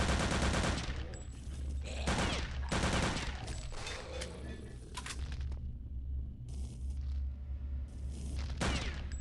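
Loud, overlapping bursts of gunfire and fiery blasts erupt in the video game Return to Castle Wolfenstein as fireballs rain down, in dense rapid volleys broken by brief gaps and faint game sounds.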